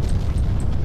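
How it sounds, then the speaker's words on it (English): A short, deep explosion rumbles in a train-building video game, a loud low roar that holds steady for under a second with no voices. "The explosion sounds."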